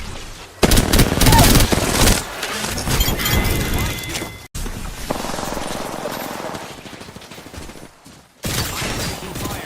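Gunfire in a video game: dense bursts of rapid automatic fire with crashing impacts, loud and close, broken by two short gaps before the shooting resumes.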